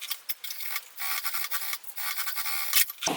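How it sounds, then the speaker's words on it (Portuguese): A sewing machine topstitches over a zipper on synthetic leather with a long stitch setting, giving a soft, steady mechanical chatter that stops briefly and picks up again, close and fairly quiet. "agora a gente vai passar uma costura rebatendo aqui em cima do zíper"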